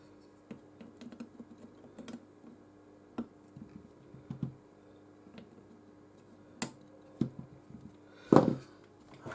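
Cutters snip excess component legs on a Sega Saturn console circuit board, giving a few sharp, close clicks spaced a second or so apart in a quiet room, the last one loudest.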